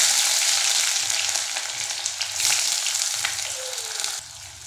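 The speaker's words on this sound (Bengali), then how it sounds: "দিয়ে দেবো পেঁয়াজ কুচি" Chopped onion frying in hot mustard oil with crushed whole garam masala, a loud close sizzle that holds steady and eases off slightly near the end.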